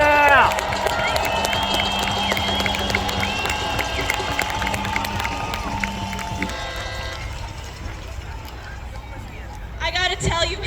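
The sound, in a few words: crowd cheering at a protest rally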